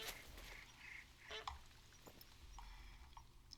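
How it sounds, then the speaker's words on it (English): Geese call out in theHunter: Call of the Wild in Nepal: a few faint, distant honks scattered over quiet outdoor ambience, with light pattering in between. "I hear geese."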